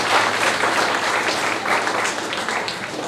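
Loud, dense applause rings out at a grand Holi gathering celebrating Mithila culture, honouring the organisation's founder. The clapping stays steady and close for about three seconds with no voices over it.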